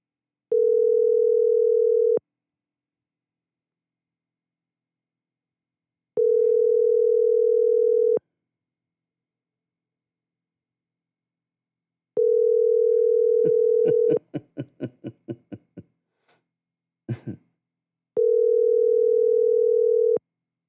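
Phone ringback tone while calling someone: long steady beeps repeat about every six seconds, with a short burst of clicks and rustling between the third and fourth tones, no talking.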